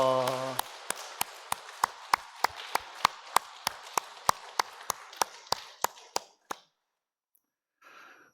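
A church congregation at a Korean Sunday service claps to welcome new members and Sunday school students. A short voice opens the clip, then crisp unison claps fall in a steady rhythm over softer scattered applause before stopping abruptly.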